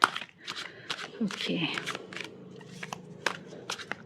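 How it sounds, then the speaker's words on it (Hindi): A deck of tarot cards is shuffled close up in a series of quick riffling bursts, with someone speaking briefly over them. "यहाँ से कर लेते हैं शफल"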